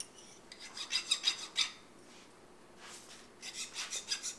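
Hand filing clears burrs and bevels the edges of a small metal piece for a shop-made compass: close, quiet rasping strokes in a quick series, a brief pause, then another run of strokes, with no voices.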